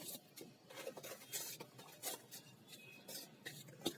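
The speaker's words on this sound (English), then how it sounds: "So let me just grab a pot." Plant pot grabbed and shuffled among other containers while preparing soil for a salvia seedling, giving a steady patter of light clattering and scraping knocks, close and fairly quiet, with no talking.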